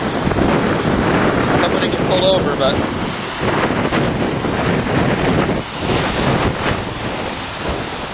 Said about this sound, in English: A little bit windy out here